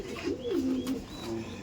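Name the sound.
high-flying pigeon calling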